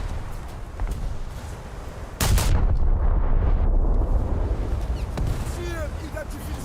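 A battleship's main guns fire in World of Warships, a sudden heavy boom rolling into a long, loud rumble, with further distant blasts and a voice talking over the naval game action.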